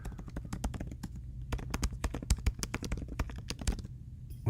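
Computer keyboard typing while an email signature is set up, a quick, close run of crisp key clicks with an uneven rhythm and no talking.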